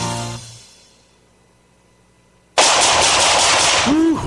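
A long sustained burst of automatic rifle fire, loud and continuous after a near-silent stretch, following a fading tone at the start, with a brief tonal ring near the end.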